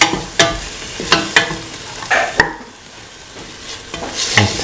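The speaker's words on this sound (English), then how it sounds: "Thoroughly saute mix." Mint, onion and shallots stirred and sautéed in a pan, with repeated scraping strokes of a utensil over a steady soft sizzle, close and fairly loud, no voices.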